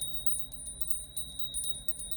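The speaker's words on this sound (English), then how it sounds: "I'm going to ring some bells" Small bells ring repeatedly in a steady, bright rhythm of quick strikes, clear and close over a low background hum, with no talking.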